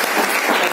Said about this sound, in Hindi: एक बार सर के लिए ताली बजा